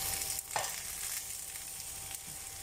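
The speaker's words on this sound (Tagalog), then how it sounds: "Luto ang bawang sibuyas eh, luto ang ampalaya." Ampalaya (bitter melon) fries in a pan with garlic and onion, giving a continuous quiet sizzle with a couple of brief stirring scrapes over the hiss.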